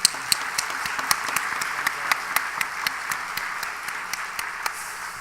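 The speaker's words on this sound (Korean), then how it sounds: "우리 감사의 박수 한번 하십시다." Steady applause from a church congregation during an evening service, with some sharper individual claps standing out over the continuous patter.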